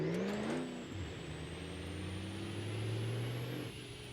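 Diesel truck engine running in the driving game BeamNG, a loud steady drone that climbs in pitch early on, then holds a settled rumble with a thin high whine above it.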